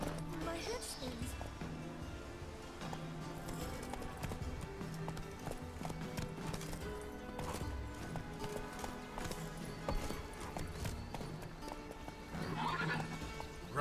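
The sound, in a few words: horse Roach galloping, from the video game Witcher 3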